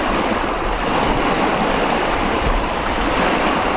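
Wind-driven waves on a lake in fall wash and splash around a canoe, a constant broadband rush of water and gusting wind, loud and close with no clear breaks.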